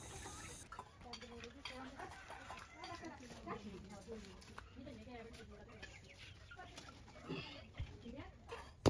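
Chickens and ducks cluck softly in a village yard in rural Bangladesh, scattered clucks from nearby birds under a person speaking over them.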